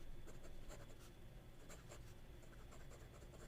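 A Waterman fountain pen filled with Mont Blanc Irish Green ink scratches across Italian paper, a close, steady dry rasp with small strokes and pauses.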